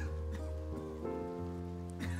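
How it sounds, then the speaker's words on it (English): Rain falling in a calm Studio Ghibli-inspired video game, a soft steady patter under a sustained mellow musical tone, low in level and continuous for a couple of seconds, with no talking. "First time it's rained since I moved here."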